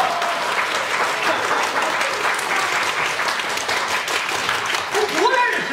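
A theatre audience at a Deyunshe crosstalk show at Sanqingyuan applauds, a dense, steady wash of many hands clapping throughout, with a voice speaking over it near the end.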